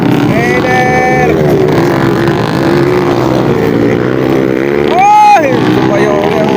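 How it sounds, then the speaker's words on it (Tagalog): Underbone motorcycles race in a motocross event at Baler, their engines whining and revving loudly with shifting pitch and a sharp rising sweep near the end, under an excited commentator's voice. "Sumayo ang motor ni Bulyoso"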